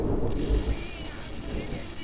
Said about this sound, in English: that was actual thunder outside.